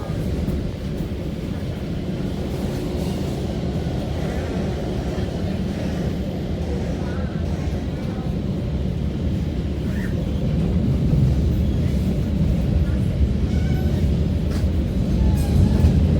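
An MTR Tseung Kwan O line K-Train rumbles along an outdoor section, a steady low roar of wheels and motors that swells slightly louder partway through, with no talk.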